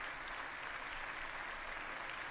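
Applause rises from the floor of a legislative chamber during a speaker vote, a steady, faint wash of many hands clapping throughout with no clear breaks.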